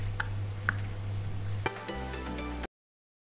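Beef with salt and seasoning being stirred in a bowl for coriander beef: soft scraping and a couple of knocks over a steady low hum, close and quiet.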